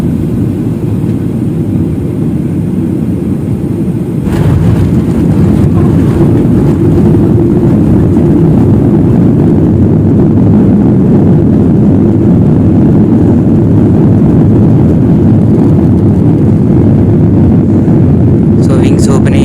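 An airliner rolls along the runway at Mumbai's Chhatrapati Shivaji Maharaj airport, heard from inside the cabin as a loud, continuous low engine and rumble drone that swells slightly partway through, with a voice speaking over it.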